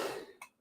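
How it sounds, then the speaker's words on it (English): A man coughs once or twice, close and fairly soft, at the end of a stretch of breathy noise. "Excuse me for getting coughs."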